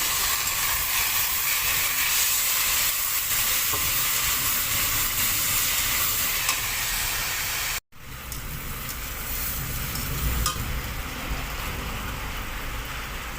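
Lentils and potato frying together in a pan for khichuri give a continuous broad hissing sizzle, loud and close, broken by one abrupt cut before the frying noise resumes.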